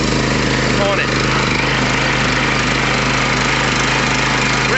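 A circa-1990 Ditch Witch 1230 walk-behind trencher engine runs steadily at around 3,100 RPM with a constant droning hum, while someone talks over it.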